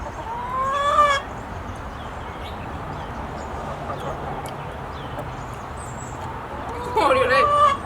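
Backyard chickens at a home in New York in the evening cluck and crow, with a loud burst of calls at the start and another near the end, over steady outdoor background noise.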